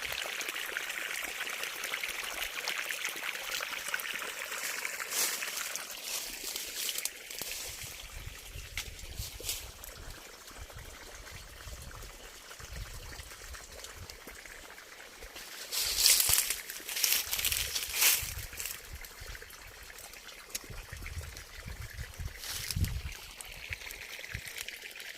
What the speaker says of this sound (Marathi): हे पा आता लिंबोणीला पाणी द्यायचं काम चाललेलं